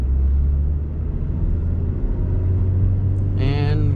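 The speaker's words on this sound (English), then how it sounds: "And we're going down the road, pushing the clutch." A Saturn SC2 drives down the road with a low, steady engine rumble as the clutch is pushed and gears shift; a brief higher tone rises near the end.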